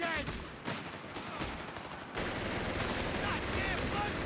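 Gunfire from squads trading shots out of buildings in a Company of Heroes 3 1v1 match, a dense crackle of rifle and machine-gun bursts running steadily throughout, growing fuller and louder about halfway through.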